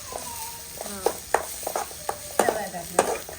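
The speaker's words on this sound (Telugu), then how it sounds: "సరే ఇది అయిపోయాక పోపు పెడతాను" Tempering spices frying in a pan for a bottle gourd yogurt chutney crackle softly beneath repeated close scrapes and stirs of a spoon, with a voice talking over the cooking.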